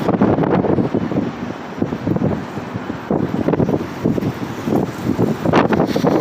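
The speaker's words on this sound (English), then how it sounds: "Fucking wind." Strong gusty wind buffeting a microphone outdoors in a downtown area, loud rumbling bursts that rise and fall continuously with no talking.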